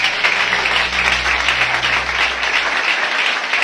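A church congregation claps together for Jesus, with dense, steady applause that stays even and loud throughout.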